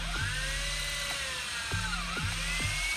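A power drill whines steadily as it bores through wooden pergola beams for 3/8-inch carriage bolts. The motor pitch dips and wavers under load, with a few brief knocks, heard at a moderate distance and fairly faint.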